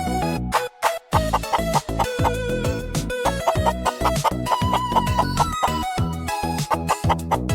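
Chicken clucking and rooster-like calls woven into a loud, upbeat children's dance song, with animal sounds riding on a busy rhythmic beat throughout.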